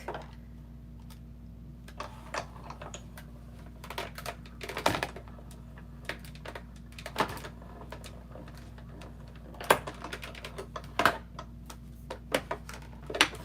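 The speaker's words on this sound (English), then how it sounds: "run this through my die cutting machine really quick" A paper craft die cutting machine runs at the bench with a steady low hum, under a rapid, irregular stream of clicking, ticking mechanical taps at close range.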